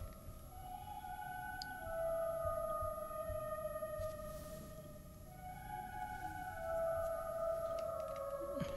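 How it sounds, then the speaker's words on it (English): A vocal chop sample from Arcade, inside an Afrobeat-style FL Studio beat, plays as faint sustained airy tones that glide over a low rumbling bed, quiet and atmospheric with no talking. "it's a vocal chop that I exported from Arcade"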